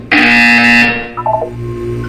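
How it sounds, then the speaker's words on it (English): A loud electronic buzzer from the Portal 2 video game sounds once, a harsh, flat tone of under a second that cuts off into a short descending electronic chime, then quiet room tone. "You will hear a buzzer."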